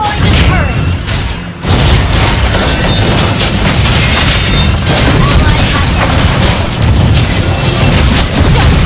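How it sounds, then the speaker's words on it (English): Loud, dense game-battle sound from Mobile Legends as a turret is destroyed: a steady wall of booming, crashing impacts and effects, with a brief dip near the start and announcer-like voice mixed into the din. "Your team destroyed the turret!"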